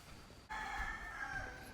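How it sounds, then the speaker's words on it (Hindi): A rooster crows once near a hillside temple of tunnels in Chiang Mai, a drawn-out tonal call starting abruptly and holding for over a second, moderately distant in a quiet outdoor setting. "मुर्गे की बांगें सुनाई दे रही हैं जी"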